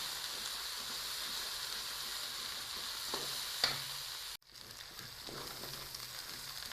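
A steady sizzle of ginger-garlic paste frying in a hot pan for a fish curry, with a spoon scraping and stirring now and then, quiet and close.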